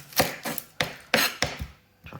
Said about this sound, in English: So you chop one end off,